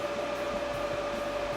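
A steady, droning mechanical whir with a constant high tone running through it, computer server cooling fans spinning in an enclosure, with no voices.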